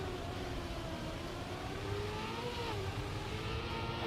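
Several race car engines from the Trackmania video game drone together as a tight pack, steady and loud, with pitches rising and dipping through a dirt section and a continuous whirring undertone.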